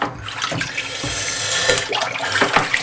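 Steady running water from a bathroom tap while rinsing after a shave, a continuous close hiss and splash with a few irregular splashes, no talking.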